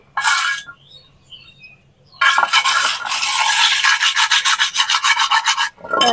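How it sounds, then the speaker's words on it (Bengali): A metal pan bottom scrubbed clean with a scouring pad from a hardware shop: a short rasping burst, a pause, then long rhythmic back-and-forth scraping strokes, close and loud, with no talk. "তল দিকটা ঘষে নেবো, একটু পরিষ্কার করে নেবো"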